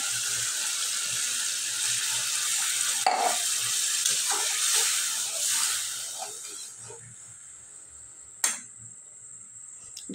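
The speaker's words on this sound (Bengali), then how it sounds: "এখন এর মধ্যে আমি ঝোল দিয়ে দিই।" Broth poured into a simmering fish and potato curry of boal-type fish with stalks: a steady watery hiss and sizzle that fades after a few seconds, with a sharp clink near the end.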